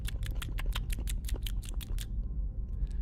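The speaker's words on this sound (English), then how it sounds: "she would snip the scissors and the sound would stop" Scissors snip about ten times in quick rhythmic succession, crisp and close against a low rumbling background, then stop, leaving a faint tail of quieter sound.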